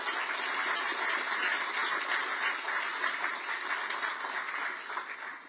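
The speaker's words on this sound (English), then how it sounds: "How about a round of applause for that?" Applause from an audience at a university press conference introducing a new athletic director, a steady broadband wash of clapping that fills the whole stretch and fades slightly at the end.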